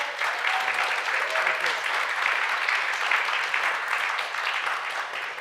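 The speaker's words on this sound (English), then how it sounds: "Let's give them another round of applause." An audience at a live presentation on environment art for the game The Outer Worlds 2 applauds steadily, a dense, even wash of clapping that holds for several seconds.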